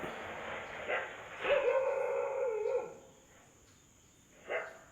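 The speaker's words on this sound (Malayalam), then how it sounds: "ഈ നായയുടെ ശബ്ദം ഓരിയിടുന്നത് കാരണം" A dog barks a few times and lets out a drawn-out howl-like whine, moderately close, with a short yelp near the end, heard at night outside shops in Kollam, Kerala.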